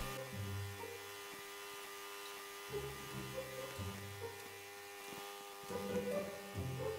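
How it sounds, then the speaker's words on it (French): A vacuum cleaner running in the Roblox game Brookhaven gives a quiet, steady electric buzz, with faint intermittent voices and game sounds over it. "Passe l'aspirateur, comme ça plus vite tu termines"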